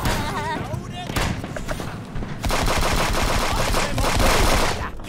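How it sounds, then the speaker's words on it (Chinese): Turret machine-gun fire in a video game rattles in dense, loud, continuous bursts with layered explosive impacts, and a voice talks over parts of it. "当心那个炮塔！"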